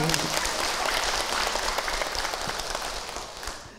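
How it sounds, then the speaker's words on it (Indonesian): A crowd of women at an outdoor religious talk claps together, a dense, fairly loud wash of applause that fades slightly toward the end. "Tepuk tangan atuh Bu."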